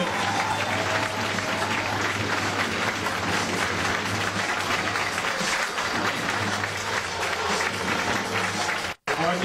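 Stadium crowd applauding steadily for a departing football player at a Topliga match between Giants Wrocław and Devils Wrocław, a dense continuous roar of clapping that holds strong for nearly the whole stretch before cutting off briefly near the end.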